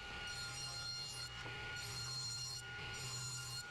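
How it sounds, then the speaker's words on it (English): A table saw cutting plywood: a steady, loud whining drone with bright high overtones and a dip and return in the cut partway through, and no talk. "Then over at the table saw, I cut them down to their final dimensions."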